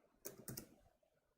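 A few quiet key presses on a laptop keyboard running Asahi Linux, three or four faint clicks in quick succession in a still room.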